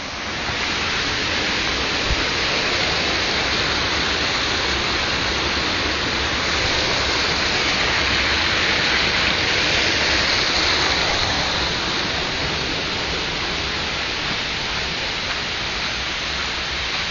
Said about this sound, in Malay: Wah, derasnya air.